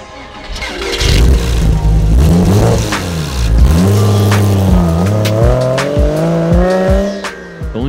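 A Porsche 986 Boxster engine revs up and down through several gear shifts, the pitch rising then dropping at each change, loud and close, with brief sharp clicks and no one speaking.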